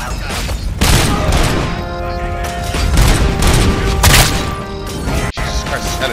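Automatic pistol fire in the Robocop: Rogue City video game, loud dense bursts of shots and crashing impacts layered over a busy game soundtrack, continuing for several seconds.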